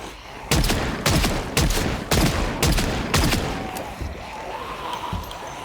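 Rapid gunfire in a modded Big City Burger Flipper game set in Raven Creek: six loud, sharp shots about half a second apart, each with a short echoing tail, then quieter shuffling and faint tones.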